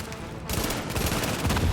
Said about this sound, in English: Behind that police car, you'll see my turret going at it here